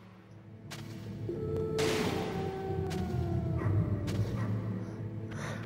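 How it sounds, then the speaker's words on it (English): Wolves howl and yelp in the Metal Gear Solid video game, rising wails and barks sounding over a dense, steady game soundscape with sustained tones. "Oh, I'm gonna fight the scary wolves again."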